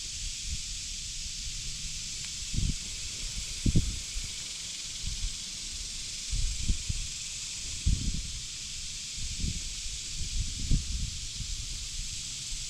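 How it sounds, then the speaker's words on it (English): Outdoor wind buffets the microphone in irregular low rumbling gusts over a steady broadband hiss, the bursts arriving every second or two with no talking. "I don't know if you can hear the wind in the mic or what"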